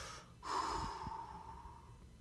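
A single deep breath drawn in close to the microphone, a short rushing inhale followed by a long, steady airy exhale with no talking over it.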